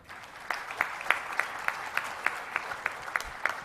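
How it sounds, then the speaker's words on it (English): A round of applause from the audience at the World HRD Congress, a fairly quiet, distant clapping with a few distinct claps punctuating the crowd at a steady pace. "Let's give him a round of applause."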